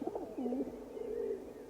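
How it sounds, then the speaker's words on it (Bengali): A single pigeon coos softly from a distance in a quiet afternoon setting, a few low rolling calls and then one drawn-out coo. "দূরে কোথায় একটা পায়রা ডেকে উঠল।"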